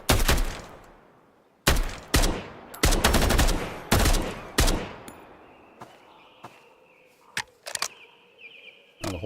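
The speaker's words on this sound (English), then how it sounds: "I was shooting the crap out of that stove in there" Gunfire in the shooter game Road to Vostok, aimed at a stove: several loud, sharp bursts in quick succession, then sparser single shots with ringing, echoing tails.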